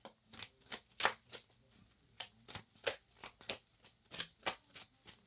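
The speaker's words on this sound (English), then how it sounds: "I'm going to pull out a tarot card" Tarot cards being shuffled and pulled from the deck, a steady run of about a dozen crisp, papery riffles and flicks close to the mic, each burst separated by short pauses, with no talking.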